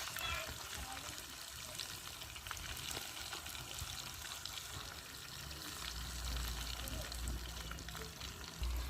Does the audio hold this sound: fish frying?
yes